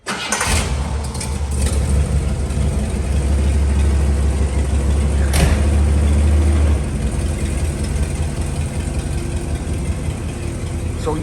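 A car engine starts with a sharp crank and catch, then idles with a deep steady rumble and a few revs before settling, as the car is moved around a lot; voices are faintly heard alongside.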